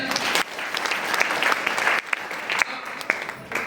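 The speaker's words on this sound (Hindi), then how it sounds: "एक बार जोरदार ताली बजाएं।" An audience at a business plan presentation bursts into loud, dense applause that carries on without a break, with a few louder claps standing out near the front.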